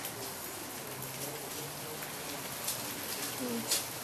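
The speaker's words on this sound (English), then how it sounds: "Looks like snow. That's hail. Came down in just a few minutes." Hail and rain falling in Redondo Beach in late February, a steady dense patter on surfaces with faint birds cooing in the background and brief louder spatters near the end.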